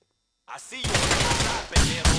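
Gunfire in the GTA 4 video game, a short burst of rapid automatic shots after a brief silence, loud and close, ending in two sharper bangs.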